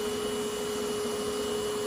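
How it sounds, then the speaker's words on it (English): A bee vacuum draws up a honey bee swarm in Ohio, producing a constant, fairly quiet motor hum and rushing airflow with an even tone and no breaks or speech. "So I'm just gonna go ahead and vacuum these bees"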